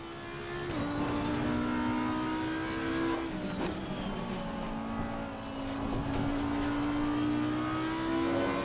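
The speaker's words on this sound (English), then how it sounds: "Get it turned in, back on the power." An Audi R8 GT3 Evo race car in Assetto Corsa Competizione at Kyalami, its engine droning loudly and steadily, pitch rising with acceleration and dipping briefly with a gear change before climbing again, with faint tyre and chassis noises.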